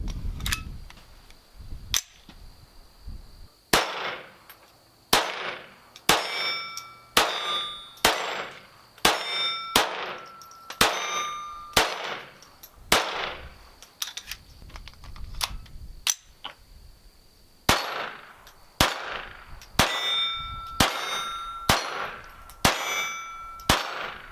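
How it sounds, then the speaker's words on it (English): Smith & Wesson Victory .22 pistol firing repeated rounds, sharp metallic cracks at irregular intervals, some in quick pairs, ringing out loudly over an otherwise quiet range for about two dozen seconds. "Let's shoot a few more rounds."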